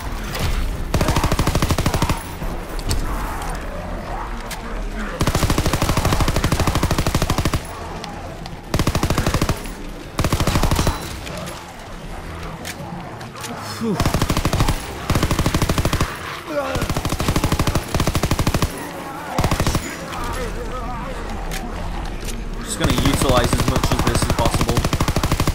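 A PPSh submachine gun fires in a World War II video game, with loud repeated bursts of automatic fire separated by short pauses and several longer sustained volleys spread across the whole stretch.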